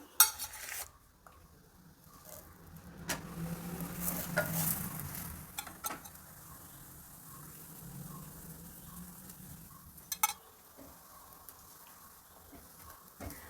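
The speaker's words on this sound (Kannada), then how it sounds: "ನಾನಿಲ್ಲಿ ಎಣ್ಣೆ ಹಾಕಿ ಬೇಯಿಸ್ತಾ ಇದ್ದೀನಿ" Paratha cooking in oil on a hot griddle gives a soft, steady sizzle, with occasional spatula scrapes and metallic clinks against the pan, fairly quiet and close.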